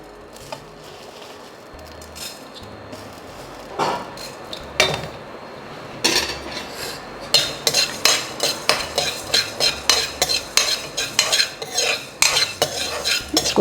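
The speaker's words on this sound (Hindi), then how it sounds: "इसको, धनिया को थोड़ा सा टाइम लगता है भूनने में" Coriander seeds dry-roasting in a pan for sambar, stirred with a metal spoon: a quiet start, then rhythmic scraping and clinking strokes that grow louder and more regular over a faint sizzle, close up, with no talking.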